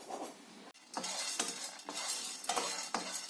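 Peanuts roast in a pan while being stirred, producing a dry rattling hiss with repeated sharp scrapes and clinks at a regular rhythm, close and moderately loud.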